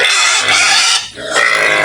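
A pig on a small farm grunts and squeals loudly and close by, two harsh bursts with a brief dip between them.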